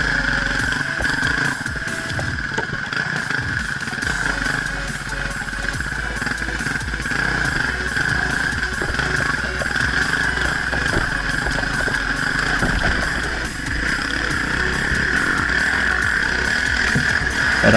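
A TE449 motorcycle engine running steadily, a loud, even drone holding close and constant throughout with no breaks.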